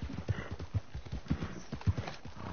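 Horse hooves clip-clop in the Red Dead video game, a quick, regular rhythm of distinct thuds at close range, loud and clear throughout.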